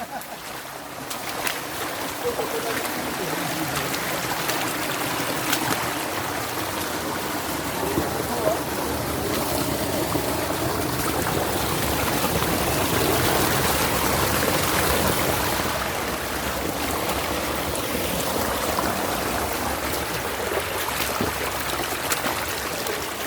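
A creek flows in a broad, steady wash of rushing water along a forest stream hike among fallen trees, filling the whole stretch at a constant level.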